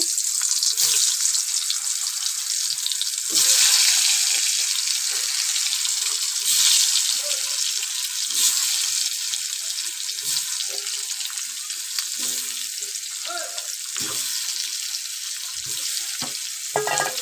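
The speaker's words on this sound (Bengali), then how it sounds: "সেই আলু কটা খুব ভালো করে ভেজে নেব" Potatoes coated with salt and turmeric frying in hot oil, a dense continuous sizzle with occasional louder crackles and pops, steady throughout with no voices.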